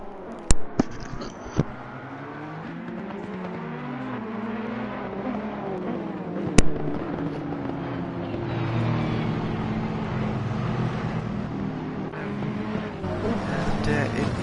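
Race cars on the formation lap at the Hungaroring, engines droning and sweeping in pitch as several cars rev and pass, with a couple of sharp clicks early and a loud steady roar building toward the end.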